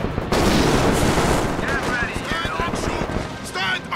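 Battlefield gunfire from a gun crew in Company of Heroes 2, a dense loud volley of shots and booms at the start easing into scattered fire, with game voices calling out over the din.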